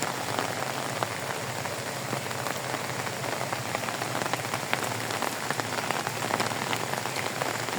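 Steady rain falls on garden plants and leaves, a continuous dense patter of drops close by with no voices.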